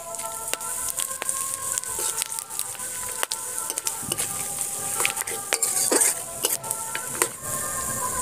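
Whole cardamom, cinnamon, cloves, three dried red chillies, two bay leaves and cumin seeds crackling in hot oil for tempering, a steady close sizzle with scattered sharp pops and occasional clinks of a utensil against the pan.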